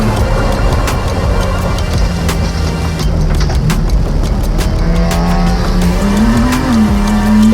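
GRIDLIFE GLGT race cars tear around Gingerman Raceway, loud close engines revving and downshifting, with rising and falling engine pitch and brief tire squeal as they brake into a corner.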